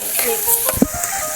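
Packet Radhuni spice mix sizzles in a frying pan with a steady close hiss, broken by a brief stirring clatter.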